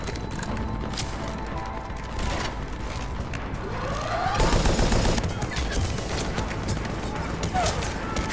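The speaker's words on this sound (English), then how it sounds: "It's nice to see the Cerberus turrets gunning down Cerberus for a change." Cerberus automated turrets in Mass Effect 3 firing bursts of gunfire amid a chaotic firefight, with a voice talking over the shooting.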